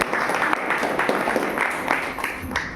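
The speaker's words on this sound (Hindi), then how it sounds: "बार दिनेश के सम्मान में ताली हो।" Steady applause from a crowd, many hands clapping together in a dense wash that holds throughout without voices rising above it.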